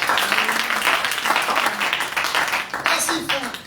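Church congregation at a Sunday service applauding, a dense steady wash of clapping that fills the room for a few seconds, with cheering voices mixed in.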